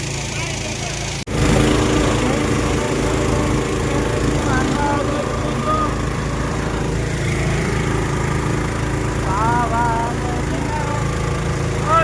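A steady motorboat engine drones throughout, with a sharp knock near the start, while people talk and call out over the motor.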